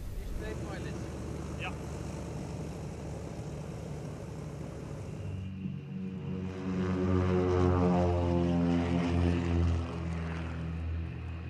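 A Marchetti SF260 propeller trainer of the Belgian Air Force display team taxiing at an airshow, its piston engine droning steadily and swelling louder partway through as it passes nearby, under a commentator's narration.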